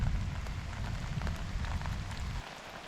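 Heavy rain mixed with falling hail, a dense steady hiss of drops and pelting impacts that stays loud, then thins slightly near the end.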